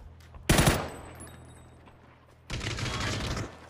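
Two bursts of PUBG gunfire, a sharp loud volley followed after a pause by a sustained rattling stream of shots, under a faint background hum.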